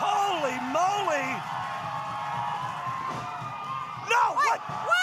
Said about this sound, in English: Listen to this crowd, though. The crowd is here for it and want to see it.